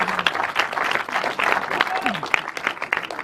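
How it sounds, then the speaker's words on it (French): Audience applause at a short-film festival evening in a cultural centre in Annemasse, steady broad clapping from a seated crowd with voices talking over it throughout. "je vous demande juste d'applaudir quelqu'un qui a joué le papa ici"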